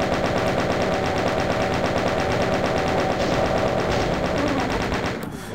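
Rapid, sustained automatic gunfire blasts at demons in the 1993 first-person shooter Doom, a dense, loud, continuous rattle of repeated shots that stops abruptly near the end.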